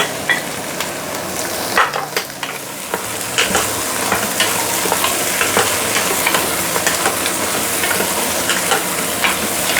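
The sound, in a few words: pork leg with herbs sizzling and being stirred in a pot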